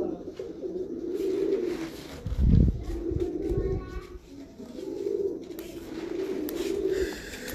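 Breeder pigeons cooing in a loft, low repeated coos in soft rhythmic phrases throughout, with a brief louder thump midway and faint background noise.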